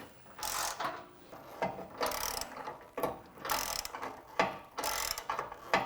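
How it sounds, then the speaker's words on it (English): Repeated bursts of ratcheting from a wrench driving a 22 mm socket, snugging down bolts on an Ironman 4x4 Raid rear bumper fitted to a Jeep Wrangler JL Unlimited; close and fairly loud, in quick clicking runs with short pauses between. "This is going to be a 22 millimeter socket. And you want to lock these guys down good and tight."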